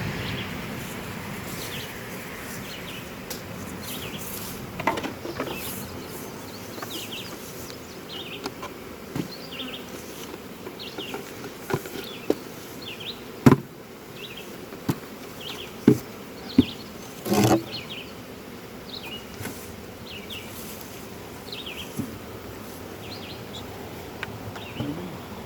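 Honey bees buzzing around an open beehive during a mite check: a steady, soft, close hum with individual bees droning past, occasional faint bird chirps and a few light knocks.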